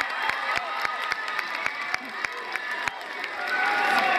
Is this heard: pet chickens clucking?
no